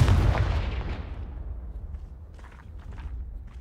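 A Confringo spell explosion in Hogwarts Legacy bursts loudly at the start, then its boom decays into a fading rumble with faint scattered clicks and steps afterward.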